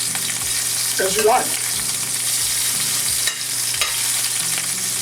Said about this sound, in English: now what we're going to do is we're going to add some shrimp